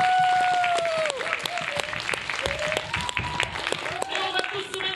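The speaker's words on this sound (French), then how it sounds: "On va accueillir très fort en l'applaudissant Monsieur Chuck Berry." A crowd claps to welcome a performer to the stage at a children's guitar show, sustained applause with cheers, under a loud announcer's voice and sliding whistle-like tones.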